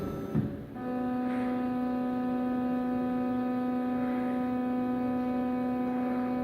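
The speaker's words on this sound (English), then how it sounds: "Not all that terribly interesting to watch a machine home" A CNC router from a Chinese maker hums steadily as it homes, a constant tonal motor whine that starts after a brief clunk and holds evenly throughout with no talking.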